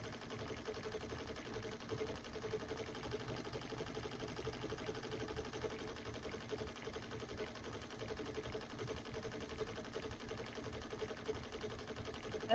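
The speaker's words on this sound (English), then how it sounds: "now I'm up to a 15 needle commercial smart stitch machine" A 15-needle commercial embroidery machine stitching a project bag, giving a steady, dense, rapid mechanical chatter that runs continuously and evenly at moderate loudness throughout.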